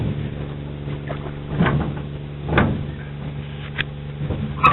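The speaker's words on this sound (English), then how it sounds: "There's a motorboat on the other side of that strip of land that I'm filming." A motorboat runs on an inland channel beyond a strip of land, its low engine hum steady and fairly distant, with a few soft swells and knocks over the drone.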